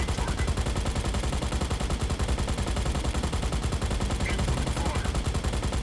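Rapid, sustained mech gunfire in the Mech Arena video game, a dense continuous barrage of loud automatic shots filling the whole stretch with no pauses.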